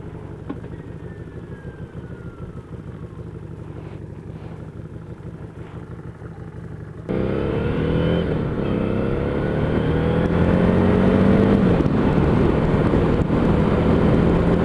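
A motorcycle engine idles with a steady low putter, then revs up louder and keeps running with rising and falling throttle.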